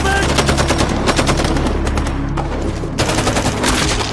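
Loud, rapid bursts of automatic gunfire crackle continuously in a movie shootout, with a brief lull before another dense volley.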